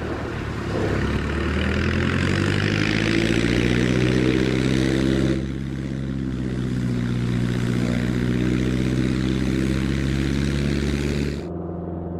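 A bush plane's propeller engine roars steadily during takeoff on an Alaskan glacier, loud and close throughout with a rising drone that shifts in pitch partway through, then cuts off abruptly near the end.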